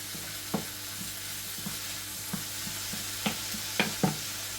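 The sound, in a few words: food sizzling in a pot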